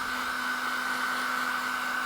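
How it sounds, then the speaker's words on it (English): A hairdryer on low setting gives a steady, even hum with an airy whoosh, unchanged throughout at moderate volume, with no voices. "I'm just going to give that a quick blast with a hairdryer"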